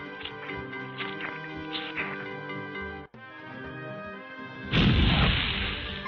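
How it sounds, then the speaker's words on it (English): A musical passage breaks off, then a loud, sustained blast of noise erupts, like a game explosion rumbling out, in the Space Quest 2 remake. "Nothing like a good explosion to brighten up your day."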